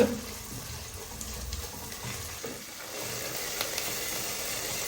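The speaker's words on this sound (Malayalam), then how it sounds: "ജിഞ്ചർ ഗാർലിക് പേസ്റ്റ്, ഇഞ്ചി വെളുത്തുള്ളി പേസ്റ്റ് ഇട്ട് അതൊന്ന് വഴണ്ടെന്ന് കഴിയട്ടെ" Ginger garlic paste sautéing in a pan on a home stove, a steady close sizzle and crackle running unbroken with faint stirring scrapes and no talk.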